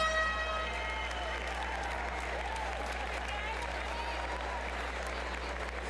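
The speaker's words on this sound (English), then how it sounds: "another round of applause for the ladies here in Heat 2" Crowd applause and cheering at a women's fitness competition heat at the 2018 West Regional, a steady, dense roar of clapping sustained for several seconds with a constant low hum underneath.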